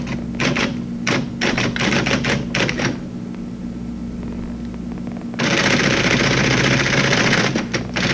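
Rapid clattering keystrokes on an APL computer terminal keyboard come in bursts over a steady machine hum, then give way to a continuous loud mechanical printing chatter from the terminal, close and alone without talking.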